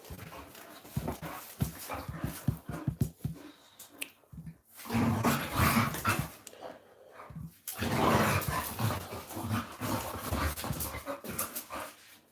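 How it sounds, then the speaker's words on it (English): Dogs barking and panting up close, with loud, rough bursts of barks and snarls coming in uneven clusters separated by brief pauses. "Dogs are being weird."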